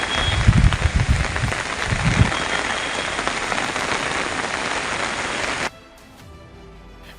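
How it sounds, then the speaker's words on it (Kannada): Torrential downpour in Belagavi, a dense steady hiss of rain hammering surfaces, with a few heavier low thuds early on, until the sound drops away abruptly near the end. "ಬೆಳಗಾವಿಯಲ್ಲಿ ಧಾರಾಕಾರ ಮಳೆ"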